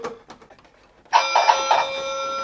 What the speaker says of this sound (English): there is still the cord pulling one, which is a bell.